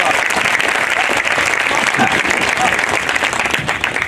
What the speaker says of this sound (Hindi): भाई तालियां एक बार पूरा सदन बजाए हाथ उठाकर।